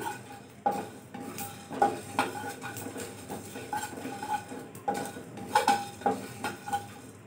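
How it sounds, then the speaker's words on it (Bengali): Whole cumin, coriander and black peppercorns are dry roasted in a pan, a spoon clinking and scraping against the metal in irregular bursts with a faint rattle of seeds, close and fairly quiet. "এই গোটা মশলা কটা নিয়েছি, এই কটা একটুখানি শুকনো ভেজে নেব।"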